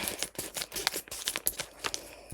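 Several quick snipping and crinkling sounds close by, like scissors cutting through plastic packaging in short bursts.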